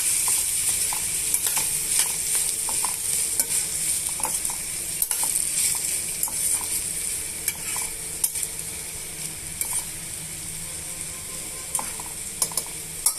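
Ivy gourd pieces stir-fry in hot tempering oil, giving a steady soft sizzle broken by frequent small scrapes and clicks of a spoon against the pan, with no talking.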